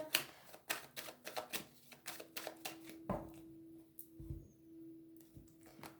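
A deck of cards is cut by hand, producing a quick irregular run of dry, crisp clicks and taps, close but quiet, with no talking.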